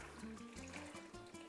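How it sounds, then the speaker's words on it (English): Water is poured into a pot of meatball soup, a quiet, brief trickling splash heard alone. "We're going to add about 4 cups of water into this."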